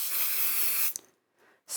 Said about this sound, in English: I am going to hold it flat with a little bit of 505 spray.